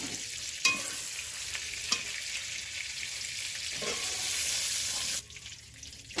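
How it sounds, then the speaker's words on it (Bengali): Steady sizzling of pointed gourd frying in hot mustard oil, continuing for several seconds with a few sharp clinks of stirring, then the sizzle drops away near the end. "এবারে নেড়ে করে ভেজে নেব।"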